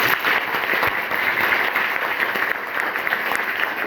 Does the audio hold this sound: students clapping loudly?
yes